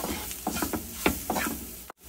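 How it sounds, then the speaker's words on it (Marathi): Red chilli powder, turmeric and garam masala are sautéed and stirred in a pan, with soft sizzling and several scraping strokes of the spoon, close and fairly quiet, ending abruptly. "मसाला जो आहे सगळा तो परतून घेऊया।"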